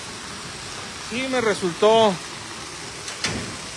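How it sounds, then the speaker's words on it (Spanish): Rain falls steadily in a small town, a constant broadband hiss with water running through a downspout. Someone speaks briefly over it. "así está el clima en mi pueblo. Llueve y llueve."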